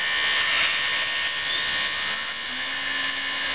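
A CNC milling machine in a fab lab begins cutting a template, giving a loud, steady high-pitched whine with broad hiss that holds constant throughout, alone without speech.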